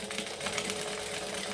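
Sewing machine stitching across the end of a fabric piece, a fast, even mechanical whirring and ticking that holds steady throughout the short stretch, close and unaccompanied.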